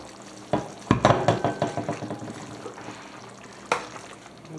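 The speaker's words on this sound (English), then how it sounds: "Another little stir." A spoon stirs hearty taco soup with beef in a pot, scraping in a quick run of about a dozen rhythmic strokes that fade, then a single louder clank near the end.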